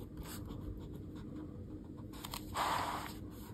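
A Jetstream ballpoint pen with a 1.0 refill writes on Logical Air Japanese notebook paper, a quiet close scratching that rises into a brief louder stroke near the end.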